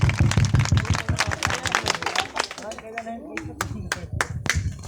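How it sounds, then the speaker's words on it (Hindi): A village crowd at an outdoor welcome in Pheedar bursts into brisk, scattered clapping for a local official, the claps close and uneven, with voices talking over them throughout. "आप लोग एक बार जोरदार तालियों से स्वागत कीजिए प्रमुख, कनिष्ठ प्रमुख पवन यादव"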